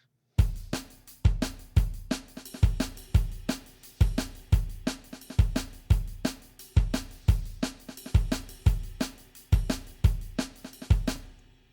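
A fast, punchy liquid drum and bass beat with deep kicks and crisp snares repeats in a steady looping groove, loud and isolated with no other instruments.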